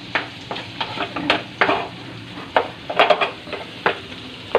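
Garlic, onion and tomato sauté in a pan with fried dried fish (daing) while a spatula stirs them. A close sizzle sits under repeated clattering scrapes and knocks against the pan, coming in uneven bursts with no talking.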